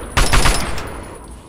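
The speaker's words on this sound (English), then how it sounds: "I think that thing might have heard the gunshots." A quick loud burst of gunfire in the video game Fallout 3, several shots running together into a harsh crackle that then tails off into a fading reverberant decay.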